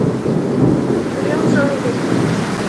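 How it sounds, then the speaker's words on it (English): Heavy rain pours down steadily with a deep rolling rumble of thunder underneath, loud and close throughout. "Here it is very heavily raining"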